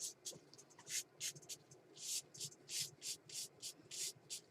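Rubbing strokes across a mixed media art surface come as about a dozen short, brisk scratchy swishes in an uneven rhythm, close and fairly quiet against a calm background.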